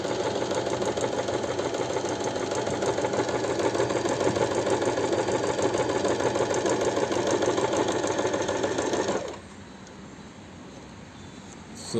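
A Singer Start 1304 sewing machine runs steadily on a medium stitch, a fast even whirring hum that continues for several seconds and then cuts off, leaving a faint quiet room.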